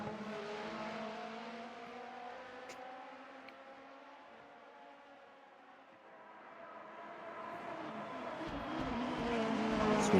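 Super Formula race cars lapping Bahrain in the Assetto Corsa sim, engines whining in sustained tones that fade to a lull and then swell louder again as cars approach.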